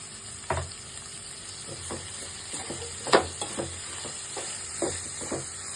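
Onions frying with salt in a pan for egg cashew curry, a steady soft sizzle broken by a handful of spoon-stirring scrapes spread through the stretch.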